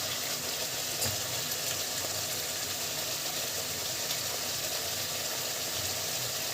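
Spices sizzle and fry steadily in a pan of hot oil while the masala is cooked down for a jackfruit and prawn curry, a continuous hissing crackle with no voices.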